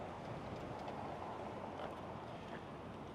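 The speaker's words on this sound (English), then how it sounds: "it's still really, really windy" Strong, gusty wind roars steadily against the microphone outdoors in a town, a constant broadband rush with no speech over it.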